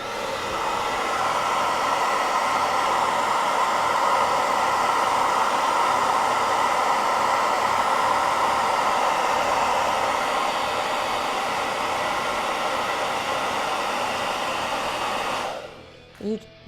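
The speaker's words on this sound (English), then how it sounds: "So we're gently going to put the blow dryer on." A blow dryer runs steadily with a loud, even whooshing hum, then cuts off near the end.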